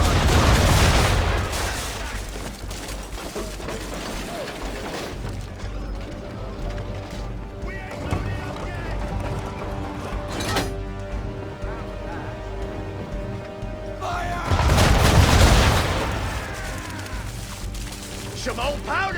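A ship's cannons fire a broadside in Assassin's Creed 3, loud booming blasts at the start and again near the end with rumbling, creaking aftermath between, and voices shouting over the action.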